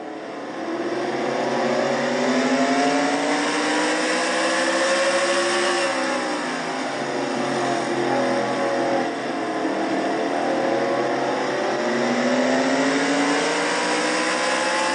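Onboard engine sound from Jasmine Acosta's number 7 race car in a Castrol GTX Cup Series race: a loud, steady high-revving roar with pitch sweeping up and down through gear changes, constant and close for the whole stretch.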